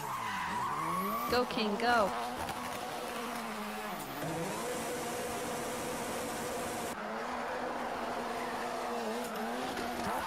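A rally car in a Ken Block Gymkhana run drifts and skids, its engine revving and wailing in rising and falling sweeps. Tires screech in long squeals, heard a little distant beneath a person's brief excited shouting.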